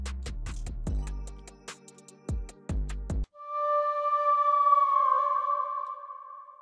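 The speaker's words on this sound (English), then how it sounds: "And it's just a flute effect." A flute effect one-shot sample from the iBinArt kit enters as a breathy, sustained flute-like tone with slight wavering. It follows a few seconds of punchy drum hits and percussive clicks.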